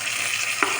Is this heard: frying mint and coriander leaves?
yes